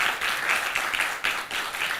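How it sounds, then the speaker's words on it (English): Audience applause ringing out at an arts keynote on immersion, a steady wash of many hands clapping together, moderately loud and continuous for a couple of seconds with no voices over it. "A dear and big applause to Khoj for this thoughtful and urgent concept."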